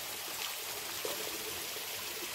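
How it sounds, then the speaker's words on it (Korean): A small stream running past a house in a quiet rural village, a steady soft rush and trickle of flowing water heard alone at low level. "개울이 있어요."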